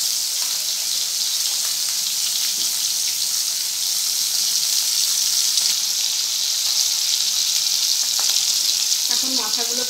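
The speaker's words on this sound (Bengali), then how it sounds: "এখন মাথাগুলো ভেজে রাখছি।" Hilsa fish heads frying in oil in a kadai, a loud, steady, close hiss and sizzle lasting throughout, with a few faint clinks near the end.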